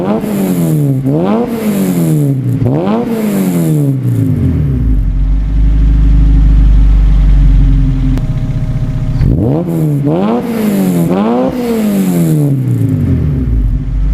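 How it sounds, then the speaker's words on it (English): A Honda Civic EG6 with a side exit exhaust, heard up close at the tailpipe, gives sharp repeated rev blips that rise and fall, then a deep rumbling idle, then more quick revs. "I'll put you over by the exhaust and let's fire it up."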